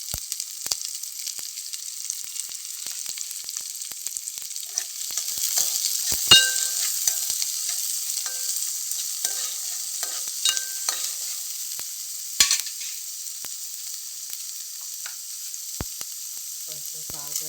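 Tempering spices fry in a little oil in a pot, a steady close sizzle with occasional stirring clinks and scrapes, no voices.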